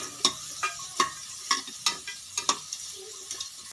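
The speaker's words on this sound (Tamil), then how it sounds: "வெங்காயம் நல்லா வதங்கி பொன்னிறமாக வரணுங்க." Medium onions frying in a pan for mushroom biryani, a soft sizzle broken by sharp, regular scrapes of a spoon against the pan about every half second.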